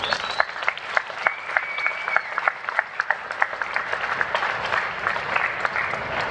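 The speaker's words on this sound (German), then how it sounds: "Jetzt aber wünsche ich von Ihnen einen schönen, harten und deftigen Zürcher Applaus" Steady applause from an audience in Zurich at a Sauber F1 Team interview event, many hands clapping densely and evenly for about six seconds, moderately loud and somewhat distant, with no talk over it.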